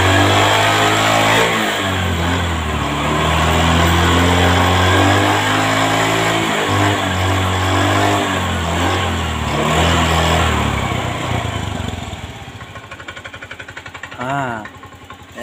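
A 2022 Honda Scoopy scooter, smoking white and burning oil, is held at full throttle, its engine droning loud and steady nearby with a pitch that rises and holds before easing off near the end.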